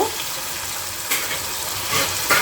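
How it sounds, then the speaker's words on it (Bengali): Chicken pieces dropped into a hot pan keep up a steady sizzle and crackle of frying, with a couple of sharper hisses as more pieces land. "এবার চিকেনগুলো দিয়ে নেব"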